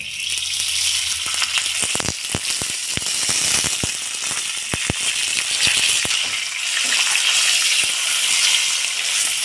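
Dry red chili and salt frying in hot oil with a bay leaf for a Bengali masoor dal, a steady loud sizzle with rapid clicks and scrapes from stirring in the pan.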